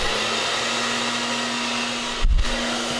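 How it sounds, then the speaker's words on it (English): A handheld hair dryer blows hair dry at close range, a steady loud whooshing hum with a brief louder gust near the end as it is moved. "So I'm gonna use a hairdryer now."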